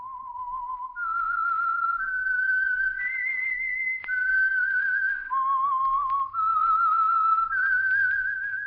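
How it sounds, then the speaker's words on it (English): A single whistled melody, the theme of The Whistler radio show, rises and falls in clear sustained notes of stepping pitch, close and prominent with no talking over it. "That whistle is your signal for the Signal Oil Program, The Whistler."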